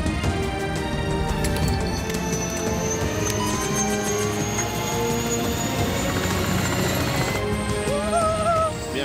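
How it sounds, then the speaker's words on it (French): Helicopters taking off for a treasure-hunt game show in Seine-et-Marne, a loud continuous rotor throb and turbine whine, with steady engine tones that persist the whole time. "Allez, rejoindre les hélicos, bonne chance."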